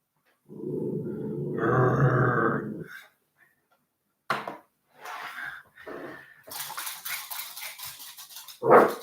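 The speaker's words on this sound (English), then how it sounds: "Did you just growl at me in the foulest manner?" A dog growls in a long, low, rumbling burst close by, then after a pause gives a few sharp yelps and short vocal bursts, ending with a loud final bark.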